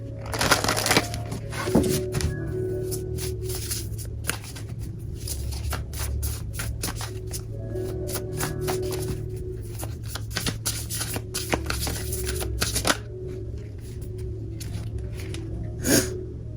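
Tarot cards are shuffled over and over in a steady, close, rustling riffle that stays fairly loud and has no talk over it.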